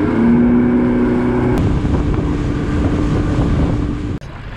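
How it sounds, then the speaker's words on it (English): A boat's outboard engine idles steadily on a lake with a low, continuous drone and humming tones, loud and close, broken by a sharp knock near the end with wind noise throughout. "So I have to keep the engine running"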